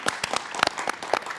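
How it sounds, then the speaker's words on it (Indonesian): A few people in a TV talk show studio in Yogyakarta clap briefly, giving a short, sparse run of distinct handclaps up close. "Mau tepuk tangan dulu untuk kita semuanya."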